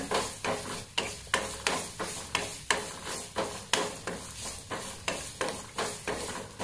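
Grated coconut and fenugreek frying in a pan make a soft, quiet sizzle broken by an even, regular rhythm of stirring strokes, about two per second, with no talk.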